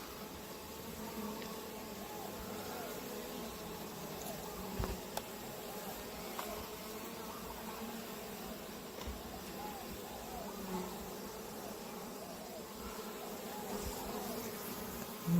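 A continuous, even drone of many honeybees at a hive in a bee sanctuary during hive work, close and steady throughout, with a few faint knocks and no clear speech.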